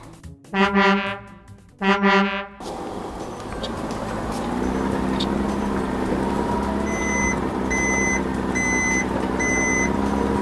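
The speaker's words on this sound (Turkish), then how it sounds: "Aa, büyük kamyon bize toplar getirdi." A big cartoon truck arrives, its engine rumbling steadily while a regular series of high reversing beeps sounds over it, following a pair of loud musical tones at the start.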